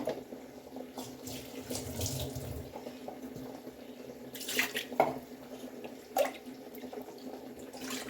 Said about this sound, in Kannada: 2 ಚೊಂಬು, ಚಿಕ್ಕ ಚೊಂಬಲ್ಲಿ 2 ಚೊಂಬು ನೀರು ಹಾಕ್ಕೊಂಡಿದ್ದೀನಿ